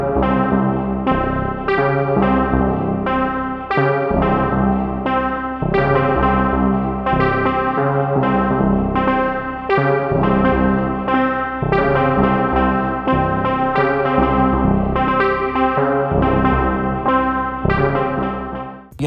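A synthesizer driven by the Gravity MIDI plugin app on iOS plays a steady stream of bouncing, rhythmic notes with chorus and distortion-like effects, loud and continuous with no talking.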